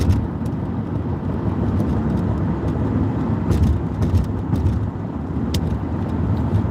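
A car driving along a road through Arizona, its engine and tyre rumble forming a steady low drone with continuous road noise from start to finish.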